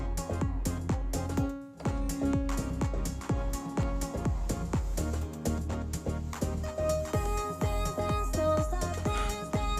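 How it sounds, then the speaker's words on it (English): Dense, driving band music with steady drums and guitars, run through a Tonalizer effect in Algoriddim djay, a sweeping phaser-like effect that adds a ringing, tonal shimmer over the mix. "it's kind of like a phaser, but it's adding like a tone to it"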